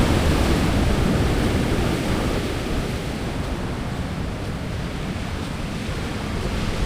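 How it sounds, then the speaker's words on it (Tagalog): Heavy surf roars continuously at Baler, Aurora, Philippines, waves crashing in a steady broadband rush with a gusty, wind-buffeted edge, loud and close throughout. "Lakas ng hampas ng alon."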